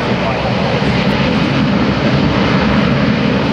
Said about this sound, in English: The Lockheed C-130